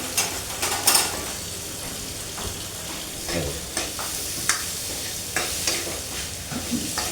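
Potatoes frying in a pan, a steady soft sizzle with scattered scraping clicks of stirring, close and alone.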